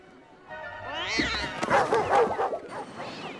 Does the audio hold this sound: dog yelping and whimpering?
yes